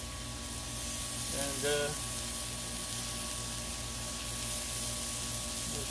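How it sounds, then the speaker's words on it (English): A room air conditioner runs with a constant, even whooshing hum over a sizzling Blackstone griddle, close and steady throughout, with a brief spoken word. "Sorry about the air conditioning."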